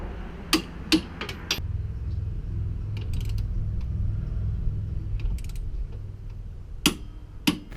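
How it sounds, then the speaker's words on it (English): A torque wrench tightens bolts on a tow base plate, with a few sharp metallic clicks and knocks at the start and end framing a stretch of low mechanical rumble, close and loud. "So now I can torque down these side ones."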